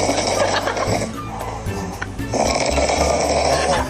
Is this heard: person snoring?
yes